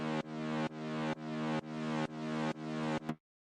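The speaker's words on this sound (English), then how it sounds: "After some mixing the mid bass and white noise, they sounds like this." An FL Studio mid bass layered with 3xOsc white noise, played as seven rhythmic sustained chords of buzzy, harmonically rich synth tone with a noisy hiss, each retriggered with a swelling pump, ending abruptly into silence.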